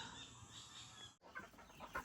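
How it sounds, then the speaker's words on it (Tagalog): Chickens cluck and fuss at close range while being fed grass alongside a goose on a farm, a busy overlapping chorus of clucks that swells into sharper calls near the end. "Pakainin ko muna yung mga manok saka yung gansa,"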